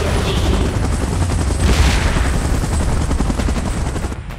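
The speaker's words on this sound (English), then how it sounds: "Chopper in position." A helicopter in a sci-fi action film scene during a monster battle, its steady rotor roar loud and continuous, mixed with dense rumbling, bursts of gunfire and a brief swelling whoosh.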